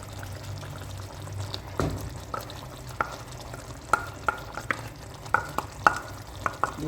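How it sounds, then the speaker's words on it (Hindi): Blended puree poured and stirred into a boiling pot of chicken jalfrezi, a soft wet pour followed by a run of sharp spoon clacks against the pot over a steady low simmering bubble. "तो इस स्टेज पे हम इसमें ये प्यूरी डाल देंगे।"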